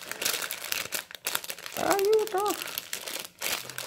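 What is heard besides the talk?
opening plastic packaging of nail gel products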